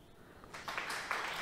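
Applause sound effect on a Farming Simulator 22 stream, a dense wash of clapping that swells in from near-silence and holds steady at moderate volume for about a second, with no talk over it.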